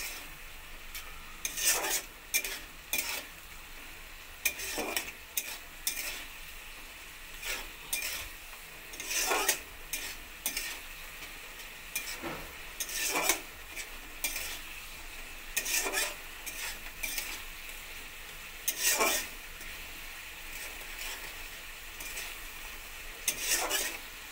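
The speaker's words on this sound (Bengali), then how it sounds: "সমস্ত মশলাগুলো একসঙ্গে কষিয়ে নেব" Spices with ginger and garlic sautéed in a pan for a pointed gourd and soya chunk curry, stirred in repeated scraping strokes over a steady low sizzle, close and fairly loud with no talking.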